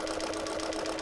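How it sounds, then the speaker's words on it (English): A sewing machine running steadily at speed, zigzag stitching through flannel applique on a quilt block, with a fast even mechanical whir and rhythmic chatter, close and loud with no voices. "I'm going to just go ahead and zigzag stitch"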